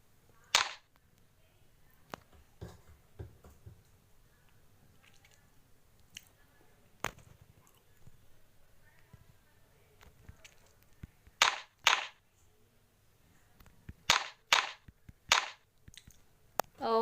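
Sharp gunshots from a gun shop simulator video game crack out in scattered bursts: a lone shot early, another mid-way, then quick clustered volleys near the end, with quiet stretches between.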